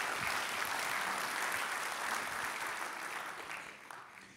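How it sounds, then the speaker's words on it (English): Audience applause for Habitat for Humanity at a Long Beach affordable-housing event, a steady, faint wash of clapping that holds for a few seconds and tapers slightly at the end. "Round of applause for Habitat for Humanity."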